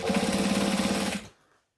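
A sewing machine stitches on a long stitch length about a quarter inch from the edge of an ironing board cover, a loud rapid pulsing run that stops abruptly near the end and leaves silence.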